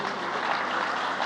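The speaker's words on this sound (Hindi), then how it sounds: "जोरदार तालियों से" A stage event audience breaks into steady, dense applause, a continuous wash of many hands clapping at moderate loudness with no voices over it.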